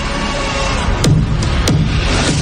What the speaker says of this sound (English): Banging on the door.